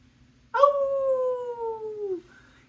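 A dog howls once, loud and close, a long sustained wavering tone that slides slightly downward before breaking off, over a faint low hum.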